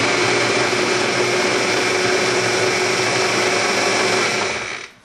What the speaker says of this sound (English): Okay, I just put all my beef right into my food processor.